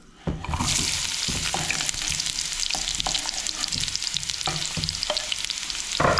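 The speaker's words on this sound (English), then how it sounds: "Just fry off the onions a bit first." Onions frying in a pan as the base for spicy Thai-style ribs: a steady, close sizzle with repeated scraping and stirring clicks throughout, and no talking.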